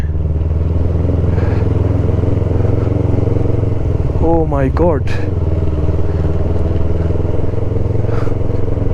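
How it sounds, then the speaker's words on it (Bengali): A motorcycle rolls slowly along a muddy, snow-wet mountain road on the Zojila Pass toward Srinagar, its steady engine drone loud and close throughout, with a brief exclamation from the rider partway through. "এখন বাইক চলতেছে সতেরো আঠারো স্পিডে"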